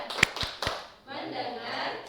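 A classroom of students claps the short "tepuk fokus" rhythm, three sharp separate claps in quick succession followed by group voices chanting together.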